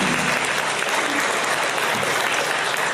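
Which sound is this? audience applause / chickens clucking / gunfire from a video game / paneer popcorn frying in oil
audience applause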